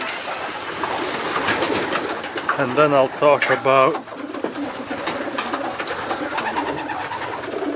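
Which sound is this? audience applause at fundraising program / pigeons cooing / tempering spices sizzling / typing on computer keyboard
pigeons cooing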